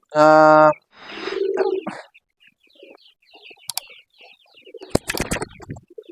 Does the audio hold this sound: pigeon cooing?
yes